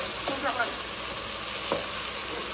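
Giambotta with zucchini cooking down in a pan, a soft steady sizzle with a couple of brief stirring scrapes, no talking.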